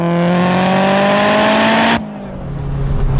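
Supercharged VW Golf G60 Rallye engine, tuned to 460 bhp, pulls hard in second gear, its loud rising note climbing steadily for two seconds before the throttle lifts and the revs drop back to a lower drone.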